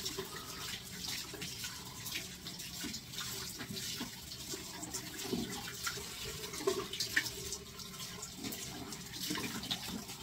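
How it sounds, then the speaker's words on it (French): Hot water runs steadily from a tap to rinse off foam, a continuous close splashing hiss with small gurgles and no talk over it. "je vais bien rincer à l'eau chaude"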